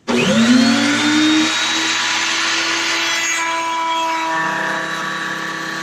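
A router table switches on and cuts wood, a loud steady motor whine rising to speed at once and holding a sustained buzzing tone with shifting harmonics as the bit works through the stock, with no talking.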